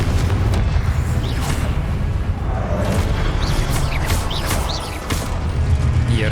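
Confringo blasting spell explosions in Hogwarts Legacy, heavy booming impacts over steady rumbling battle noise, with a short dip before another blast near the end.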